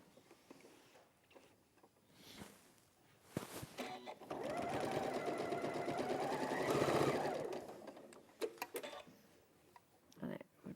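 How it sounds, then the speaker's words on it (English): A sewing machine runs steadily stitching a quarter-inch seam on a folding caddy or machine cover, a close continuous mechanical whir lasting several seconds, bracketed by softer handling noises and someone talking before and after. "carry on stitching as we were before at a 1/4 inch"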